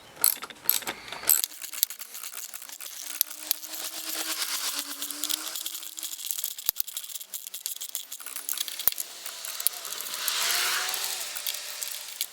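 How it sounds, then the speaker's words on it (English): A ratchet driving a 5mm socket on a GIVI topbox frame fitted to a 2021 Kawasaki Ninja 1000SX, giving a steady run of fine metallic clicks and rattling that swells toward the end, close and fairly quiet. "Just using a 5mm socket"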